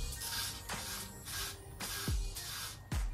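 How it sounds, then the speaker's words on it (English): Wig glue is sprayed onto a head from close range as several soft hissing bursts, with brief clicks between them and no talking. "I just spray a little bit on to where I want my wig to be laid."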